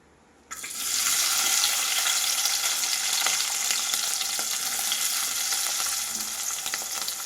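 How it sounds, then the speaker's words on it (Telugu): Onions and green chillies frying in oil for an Andhra-style broccoli and egg curry, a loud, dense, continuous sizzle that starts abruptly and holds steady. "ఇలా బాగా దోరగా వేయించుకోవాలి."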